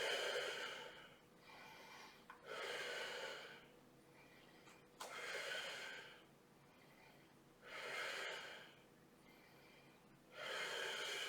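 Slow, controlled breaths during a floor Pilates exercise without equipment, about five airy exhalations roughly every two and a half seconds, close and fairly quiet, with no talking.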